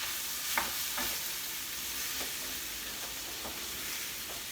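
Jamaican curry powder toasting with onion and garlic in a pan makes a faint, continuous sizzle, with a few soft spoon strokes spaced through it.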